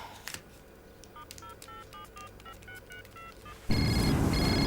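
A telephone in a 2000 police drama scene, first a rapid series of faint electronic beeps like keypad tones, then a loud, continuous electronic ring that suddenly fills the room near the end.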